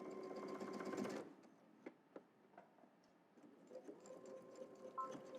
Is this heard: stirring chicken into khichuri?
no